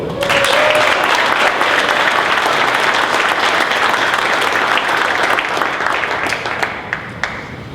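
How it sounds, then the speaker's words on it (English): Audience at a Zion-Benton Township High School board meeting applauds students, steady loud clapping throughout that thins slightly near the end with a few isolated claps. "A big, big round of applause for these fantastic students."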